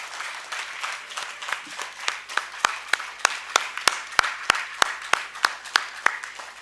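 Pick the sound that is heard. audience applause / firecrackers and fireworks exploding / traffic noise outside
audience applause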